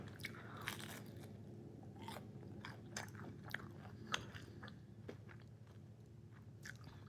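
Close, quiet crunching and chewing of onion rings from a small office cafe, a steady run of crisp bites and munching with no talk over it.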